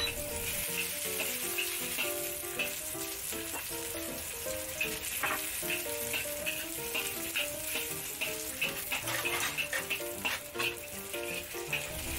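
Garlic slices fry in a wok with steady crackling sizzle and occasional stirring scrapes over a low background of music, close and continuous, with no talking.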